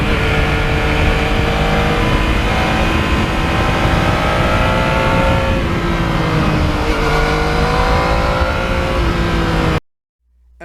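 A Yamaha MT-09 motorcycle engine roars steadily while riding, loud and close, with rising and falling revs as the rider accelerates and shifts, then cuts off abruptly near the end.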